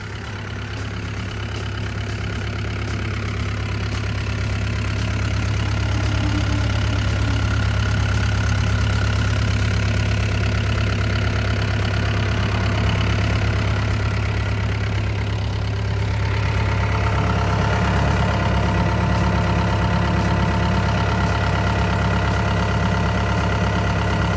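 A Hitachi EX75UR-5 seven-ton excavator's diesel engine idles steadily and loudly for the whole stretch, a deep constant rumble with a mechanical clatter and no voices.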